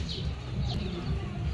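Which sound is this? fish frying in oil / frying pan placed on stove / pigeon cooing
pigeon cooing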